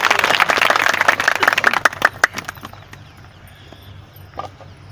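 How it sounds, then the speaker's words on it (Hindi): An audience at a Haryana MGNREGA mates' meeting claps loudly and steadily at first, close by. The clapping thins into a few scattered claps and fades out after about two seconds. "कम से कम ताली को बजा दो।"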